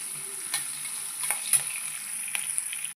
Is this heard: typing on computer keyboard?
no